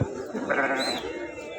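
A sheep bleats once, close and drawn out, amid the background murmur of the Kadiri livestock market.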